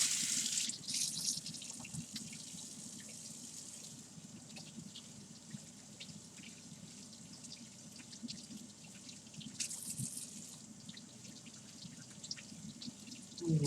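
Tap water runs steadily into a kitchen sink while an onion is washed, a continuous soft splashing with a few brief louder gushes near the start and middle.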